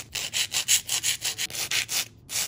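A file rasps back and forth over polygel nail tips being reshaped, about a dozen quick, even scraping strokes in a steady rhythm, close and crisp with a brief pause near the end.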